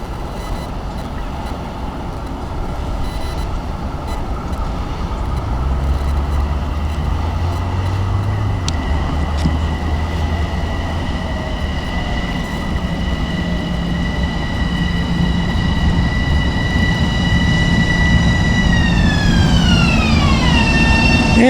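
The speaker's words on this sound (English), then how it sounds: "The 11:48 train to Penn Station is now arriving on Platform A." A Long Island Rail Road M7 electric train pulls into a station platform, a loud sustained rumble with high whining motor tones that slide down in pitch as it slows, steady and close throughout.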